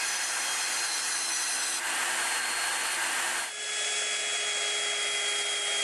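A power saw cuts wood to final size for a desk, giving a loud, continuous, hissing whine that shifts pitch abruptly partway through as the cut continues, with no voices.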